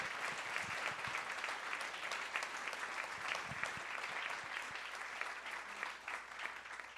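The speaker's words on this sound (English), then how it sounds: "Join me, please, in one more round of applause to thank this amazing panel." Sustained audience applause at a health equity symposium, thanking a panel; dense steady clapping from a sizable crowd fills the room throughout, fairly distant and even in level.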